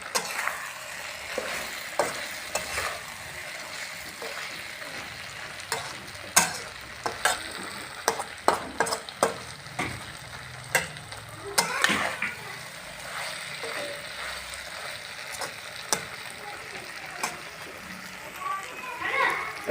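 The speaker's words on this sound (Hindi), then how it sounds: "तकरीबन 2 या 3 मिनट तक इसको भूनें" Okra (bhindi) frying in a pan while a spoon stirs it gently, giving steady close sizzling with scattered scrapes and clicks throughout, and a voice talking at times over the cooking.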